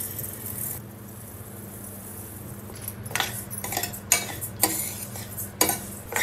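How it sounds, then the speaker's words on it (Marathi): Rice and lentils roast in a hot kadhai with cumin and coriander seeds, stirred by a spoon in several quick scraping strokes over a quiet sizzle. "आता कढई तापून घेतलंय. आता आपण घालूया तांदूळ"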